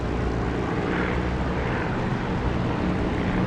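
Aircraft engine drone in the DCS flight simulator game, heard near the runway: a loud, continuous, even roar fills the whole stretch without a break.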